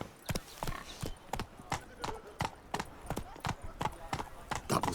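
Hooves of the horse Roach in the game The Witcher 3 clip-clop in a brisk, regular trotting rhythm, close and distinct, with faint background voices mixed in.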